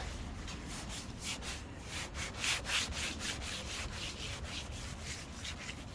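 Clay cloth rubbing tree sap contamination off the paint of a Vauxhall Cascada, a steady gritty scrubbing in repeated back-and-forth strokes, close and fairly quiet, with no talking.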